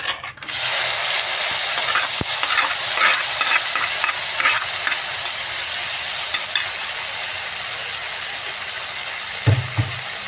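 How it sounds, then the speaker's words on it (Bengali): Scooped-out pointed gourd pulp hits a little hot oil in a pan and fries with a loud, bright, continuous sizzle, marked by scattered spatter crackles and a few soft scraping stirs toward the end, with no talking. "যে শাঁসটা বের করে রেখেছিলাম পটলের এটা ভেজে নিচ্ছি"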